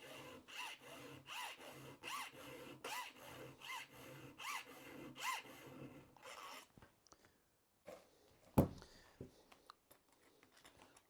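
A hand file is drawn across the teeth of a square ground chisel chainsaw chain in steady, rhythmic rasping strokes for about six seconds. A faint scrape and a sharp click follow in quieter surroundings.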